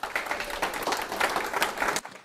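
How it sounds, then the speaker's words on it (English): Studio audience applause at a live show: dense, steady clapping from a crowd for about two seconds, then breaking off abruptly. "Give yourself a round of applause."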